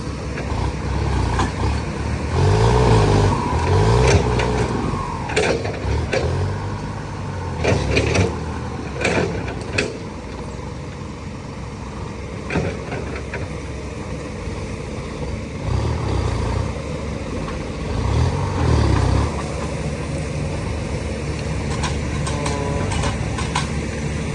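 Hired vehicle working on a new road to a rice field, a continuous close mechanical engine drone with clanks, grinding and surges of machinery throughout.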